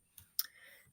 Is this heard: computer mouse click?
yes